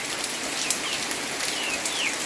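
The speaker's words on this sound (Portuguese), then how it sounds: "Com bastante chuva pessoal" Heavy rain pours down on a Saturday afternoon as a dense, steady hiss of drops on surfaces, with faint bird calls in the background and no talking.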